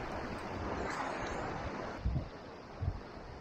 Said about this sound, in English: when the water washes over it, I'm going to try and catch it cascading back down into the sea